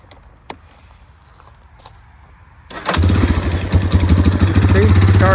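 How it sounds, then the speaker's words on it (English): Yamaha Warrior 350 ATV engine cranking and catching after a quiet moment, then settling into a loud, close, rough running idle with a steady low thrum. "Let's fire it up."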